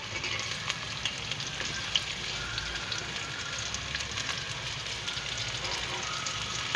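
Onions sizzle and fry steadily in hot oil with cumin seeds and whole garam masala for chicken and chickpea curry, a continuous close crackle with occasional stirring scrapes.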